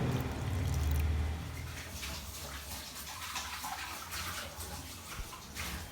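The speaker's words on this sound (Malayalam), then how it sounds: "ആട്ടപ്പൊടിയിലേക്ക് 1 കപ്പ് വെള്ളം കുറേശ്ശെ ഒഴിച്ചു കൊടുത്ത്" Water pours in a steady stream close by into flour, then gives way to quieter wet splashing and mixing sounds as the dough is kneaded.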